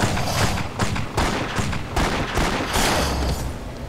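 Rapid gunfire from a weapon cutting down enemies in Torchlight: loud, dense volleys of shots in repeated bursts with short gaps, crackling and close throughout.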